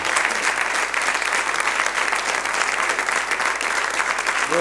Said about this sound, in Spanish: Les mandamos un aplauso para ellos también.